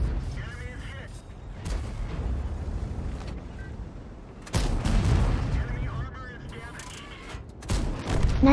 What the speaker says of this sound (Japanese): ブラスクさんと合わせて 105mm 砲の5連射。